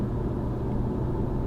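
A Porsche 911 Carrera S (992) engine set to Sport Plus mode gives a steady, close, low rumble that holds an even level for the whole stretch, with no talking.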